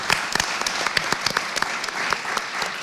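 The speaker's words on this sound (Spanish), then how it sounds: "Por favor, un aplauso para todos y todas" An audience at a book presentation about Ushuaia claps warmly, with many scattered hand claps that build into steady applause filling the hall.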